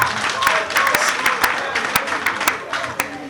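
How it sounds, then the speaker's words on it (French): An audience at a Beninese official gathering claps in a brief burst of scattered, sharp applause, with a voice talking over the clapping. "Alors, je vous demande de vous applaudir vous-même en tant qu'acteur"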